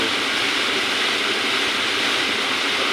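A water-driven flour mill in Kashmir runs on a channel of flowing water, giving off a steady, loud, unbroken rushing roar with no voices.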